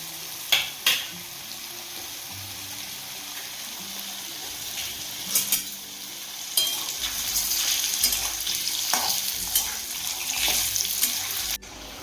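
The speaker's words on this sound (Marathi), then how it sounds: "आता आपण हा एक बटाटा कापलेला तो त्याच्यात टाकून चांगला सोनेरी कलर येईपर्यंत त्याला परतून घेऊ" Cut potato fries in hot oil in a kadai, a continuous close sizzle and hiss with a few clinks of the spatula against the pan.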